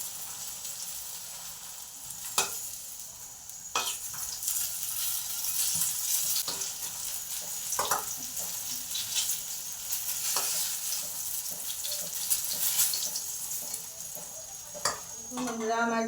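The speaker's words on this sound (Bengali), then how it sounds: "আমার বেগুনগুলো ভাজা হয়ে গেছে। আমি এবারে একটা একটা করে তুলে নিচ্ছি বাটির মধ্যে।" Eggplant slices frying in oil make a steady, moderately quiet sizzle across sixteen seconds, punctuated by occasional clinks and scrapes of a utensil against the pan as pieces are turned and lifted out.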